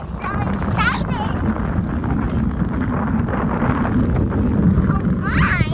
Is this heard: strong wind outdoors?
yes